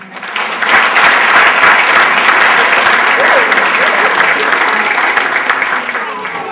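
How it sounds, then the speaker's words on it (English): Sustained, loud applause from a university Korean Culture Day audience welcoming a speaker to the stage, a dense even wash of clapping from many hands, tapering slightly toward the end. "Please welcome him with a big round of applause."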